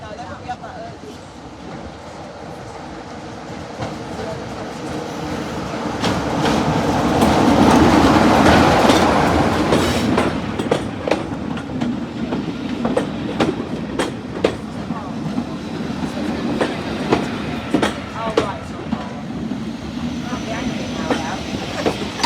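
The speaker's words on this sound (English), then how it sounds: "Here is the train arriving in on the first departure from Corfe Castle" A Class 33 diesel locomotive on the Swanage Railway draws in on a train from Corfe Castle, with engine rumble swelling as it nears, then rhythmic clattering of wheels over rail joints and faint squeals, with someone talking over it.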